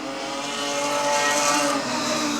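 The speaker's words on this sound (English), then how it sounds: "Sounds like the Falcon running on about 5 cylinders for Anthony King." A Ford Falcon modified sedan race car, engine running rough on about five cylinders, drones loudly and steadily at speed on a circuit, with no voices.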